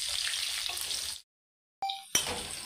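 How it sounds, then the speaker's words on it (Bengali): Pieces of young jackfruit frying in hot oil give a loud, steady sizzle that cuts out for a moment, then comes back with a sharp clatter. "এঁচোড়গুলো হালকা লাল করে ভেজে নেব"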